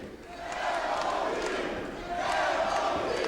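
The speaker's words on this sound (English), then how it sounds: "Listen to the chant by the crowd." A large wrestling arena crowd chants in two rising rhythmic swells at an indoor pro wrestling event, loud and sustained, with voices blending into a roar.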